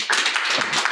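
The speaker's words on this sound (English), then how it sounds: "Round of applause." A small audience at a talk on earth architecture claps briefly, a dense burst of close hand claps lasting under a second.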